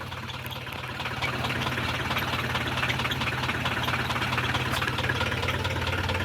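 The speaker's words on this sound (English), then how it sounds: "And that's the sound of a diesel" A 1976 Mercedes-Benz 240D diesel engine idles steadily, a close, even low rumble with a faint knocking clatter that holds at constant loudness throughout, no talking.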